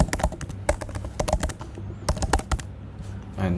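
A website address being typed on a computer keyboard, quick close clicking keystrokes in bursts with brief pauses, alone without talk.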